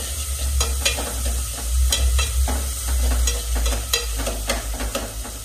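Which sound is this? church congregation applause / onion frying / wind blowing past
onion frying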